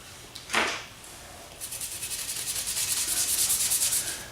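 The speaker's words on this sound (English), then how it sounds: "Just keep scrubbing the barrel away" A pitted Martini Henry Mk IV rifle barrel being scrubbed, one short sharp scrape followed by a run of quick, rhythmic abrasive rubbing strokes that grow steadily louder, close up and without talk.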